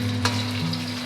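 Salted fish fries in oil while XO sauce is being prepared, giving a close, steady sizzle with a faint low hum underneath and one small crackle.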